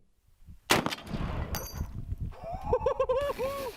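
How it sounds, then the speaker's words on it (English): A .50 caliber rifle fires once in a demonstration: a sharp, loud, close blast with a rolling rumble and a second crack, followed by noisy clatter and a wavering tonal whine. "Have a look at this demonstration of a 50 caliber rifle."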